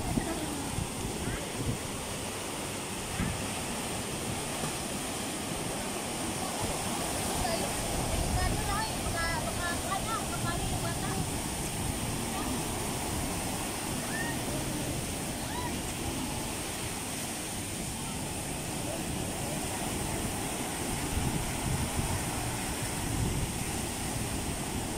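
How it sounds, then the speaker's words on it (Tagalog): Strong ocean waves roll onto Bikini Beach in Dauis, Bohol, a steady broad wash of surf with wind noise, continuous and fairly close, with faint voices now and then. "Ang lakas ng alon."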